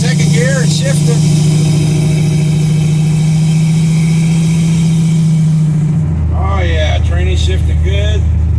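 A 1955 truck engine runs in a steady mid-pitched drone while driving, then the pitch shifts lower as it changes gear, with someone talking over the engine near the end.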